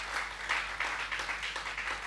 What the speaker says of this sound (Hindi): आप भी एक बार तालियां बजाइए महावीर प्रसाद मधुप जी के लिए